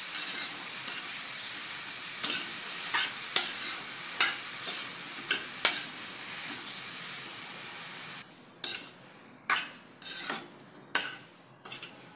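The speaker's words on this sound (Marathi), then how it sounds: "हलवून घ्यायची" A spoon scrapes and clatters through ridge gourd stir-fried in a hot pan with garlic tempering, repeated short stirring strokes over a soft sizzle, with the sizzle dropping away toward the end as the scrapes continue.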